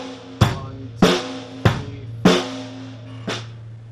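Basic drum beat, five hits about 0.6 seconds apart mixing kick thumps and sharp snare cracks with a hi-hat shimmer, close and solo.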